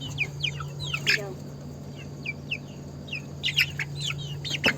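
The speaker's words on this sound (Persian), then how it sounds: "آقا 3 تا جوجه رفتن زیر این کولر گیر کردن" High, repeated peeping calls from chicks stuck under an air cooler chirp in quick clusters over a steady low hum, fairly close and moderately loud.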